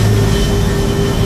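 A light rail train on LRT Line 1 in Manila rumbles loudly and steadily at close range, with a low drone and a faint tonal whine throughout the short burst.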